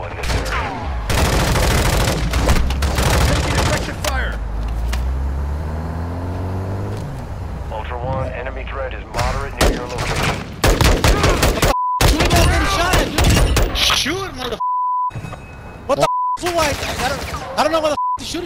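Gunfire from a Call of Duty Modern Warfare 2 DMZ match: bursts of automatic shots and booms repeat through the stretch, with a vehicle engine, short electronic beeps and game effects layered in, everything loud and close.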